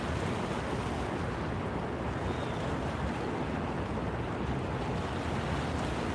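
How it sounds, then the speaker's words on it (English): Raging, frothy river water churning out beneath a CNO&TP railway line near new locks, a loud continuous roar mixed with wind rumble, no talk. "you can just see the frothy, churning water as it just roars out"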